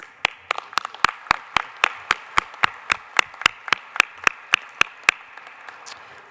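Applause from an audience at a Defense POW/MIA Accounting Agency presentation to VFW comrades: sharp, evenly spaced claps at a steady rhythm, close and clear, with no talk over them.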